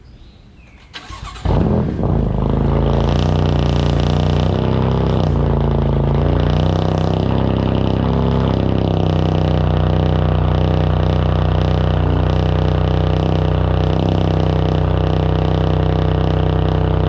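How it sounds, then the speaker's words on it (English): A tuned BMW F80 M3 engine cold-starts with a sharp crank and catch, then settles into a loud, steady, raspy high idle that holds close and unbroken for the rest of the clip. "I'm gonna catch that cold start for you"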